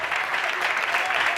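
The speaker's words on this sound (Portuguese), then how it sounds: "Mais forte as palmas" A short burst of steady, loud congregational clapping during a church vigil, thick and unbroken from start to finish.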